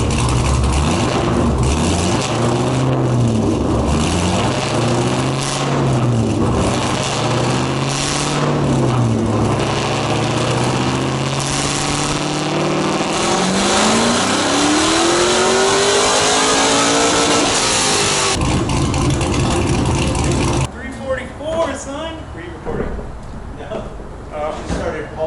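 A Mazda Miata with a swapped LS V8 engine revs on a dyno, pitch rising and falling in repeated throttle sweeps, then climbing in a long loud pull before cutting off, with people talking over it afterward.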